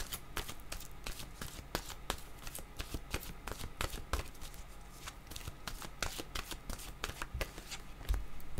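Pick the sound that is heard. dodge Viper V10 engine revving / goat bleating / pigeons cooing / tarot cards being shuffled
tarot cards being shuffled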